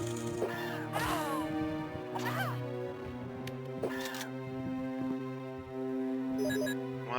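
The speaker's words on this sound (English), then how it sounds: "Goddamn crows." Crows caw from the Resident Evil Deadly Silence video game, several harsh calls spread across the stretch over a steady tonal game ambience, with a faint electronic chirp near the end.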